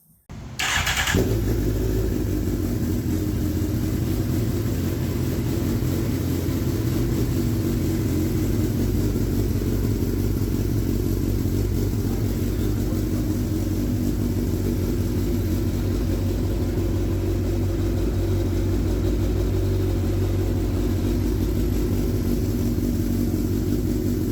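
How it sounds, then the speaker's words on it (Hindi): A Suzuki GSX-R1000 K9 sportbike fires up after a brief crank and settles into a loud, steady idle that holds close and continuous for a long stretch, with no talking. "अब मैं आपको इसका साउंड दिखाता हूँ, साउंड सुनाता हूँ बाइक का और स्टार्ट करता हूँ"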